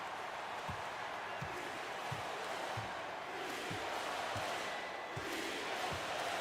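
An arena crowd at the free throw line in the video game NBA 2K25 keeps up a steady, distant roar of cheering, with soft rhythmic basketball dribbles thumping underneath.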